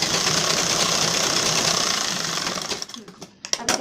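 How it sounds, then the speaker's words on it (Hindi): A sewing machine runs steadily while stitching a blouse lining, a loud, close, continuous whirring drone under a voice. It slows to a stop near the end and gives way to scattered handling clicks. "पलटा के हमें एक बार सिल लेंगे"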